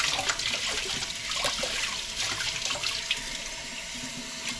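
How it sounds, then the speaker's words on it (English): Tap water runs steadily into a sink as a whole raw chicken is rinsed out, a close splashing stream with small shifting gurgles and no talking. "Run some water through it."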